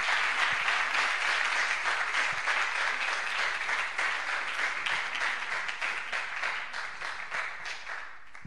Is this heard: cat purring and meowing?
no